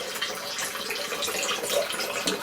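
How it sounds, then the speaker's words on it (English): Water sputtering and gurgling through an air-filled line feeding the heat exchanger of an off-grid tiny house refrigerator, a close, continuous splashing hiss with irregular bubbly bursts. "Uh-oh, had a little more air in the line, hear that?"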